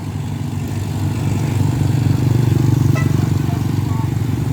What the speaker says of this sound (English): this is a mobile rice milling machine